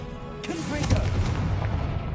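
A Confringo blasting spell bursts in Hogwarts Legacy, a dense mid-range boom with crackling debris that swells around its peak and rumbles on steadily for about two seconds, with a faint voice mixed underneath.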